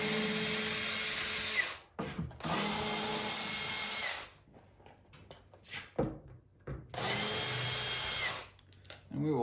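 Power drill whirring loudly in three sustained bursts while backing out screws on a DIY wooden American flag, with short gaps and handling noise between runs.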